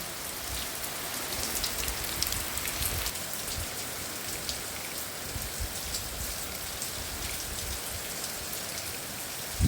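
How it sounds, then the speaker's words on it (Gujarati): Heavy rain pours down steadily on a village farm near Dwarka, a dense, constant hiss of drops drumming on surfaces and pouring off the eaves, with no voices. "વરસાદ થઈ ગયો ચાલુ જબરજસ્ત"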